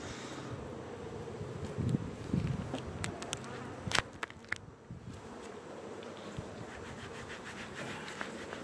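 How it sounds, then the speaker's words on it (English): Honey bees buzzing around hives in a busy apiary after a season of strong splits, a steady mid-level insect drone with a few brief louder passes close by and no talk. "My bees seem to be happy too"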